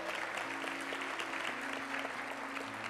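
A church congregation claps steadily in a dense, even burst of applause lasting a few seconds, with a faint low tone sustained underneath.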